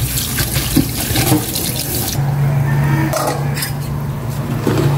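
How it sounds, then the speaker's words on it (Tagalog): Tap water running steadily into a kitchen sink or basin to fill salted soaking water for pechay, a loud constant gush with a faint low hum beneath. "Ibabad ko ng tubig na may asin itong pechay para maalis ko"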